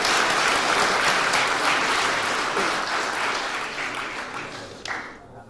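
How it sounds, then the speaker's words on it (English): Guests at a sister-city anniversary reception in Atlanta give a round of applause, a loud, dense wash of clapping from a crowd that gradually thins and fades toward the end. "Please join me in a nice round of applause for them."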